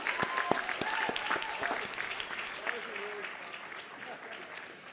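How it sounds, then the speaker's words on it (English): Audience applause and cheering at a white coat ceremony for a medical class, a dense sustained clapping from a large crowd that slowly fades, with a voice briefly heard over it. "So one more big round of applause and cheer for all of you."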